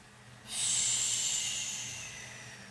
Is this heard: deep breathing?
yes